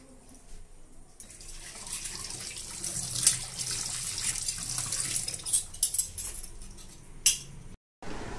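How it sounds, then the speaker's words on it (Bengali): Plates being washed under running tap water at a home sink, a steady broadband rush of water with occasional clinks of dishes, close and moderately loud, with a brief cutoff near the end. "তারপরে আমি প্লেটগুলো ধুয়ে নিই"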